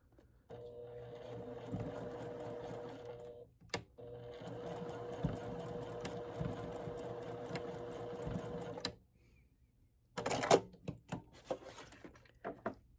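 A sewing machine stitches back and forth to tack a zipper tab down on vinyl, running in two steady close whirring bursts with a brief stop between, followed by a pause and a few sharp handling clicks.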